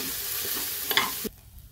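Bajra upma sizzles steadily in a pan while a spoon scrapes and stirs it, close and moderately loud, with a brief louder scrape before the sound cuts off sharply near the end.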